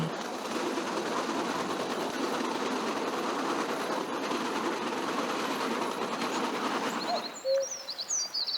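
Continuous clattering rumble of a bamboo train rolling along old rail track near Battambang, Cambodia, steady and close, then it stops and birds chirp in the quiet.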